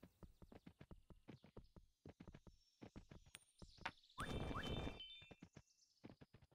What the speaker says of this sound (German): Ist das ein Pferd? Okay, gibt's Pferde.